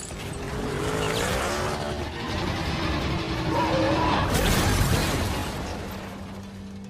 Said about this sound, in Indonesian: congor mobil yang dikendarai Dom langsung menghantam si Phoenix